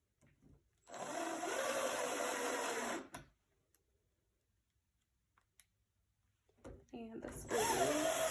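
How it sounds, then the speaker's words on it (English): A power drill drives screws into a door latch in two bursts: a steady whirring run of about two seconds, a quiet pause, then a shorter run with a rising and falling motor whine. "Make sure your drill's going the right way."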